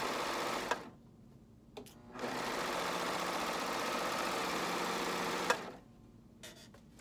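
Sewing machine stitching a T-shirt shoulder seam, running in two steady bursts with short pauses between, close and alone with no talk.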